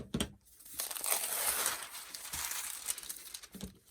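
Crinkly deli paper rustles and crackles as pieces are cut off a roll, coming in close, fairly quiet bursts of crisp crumpling with short pauses between, no voices.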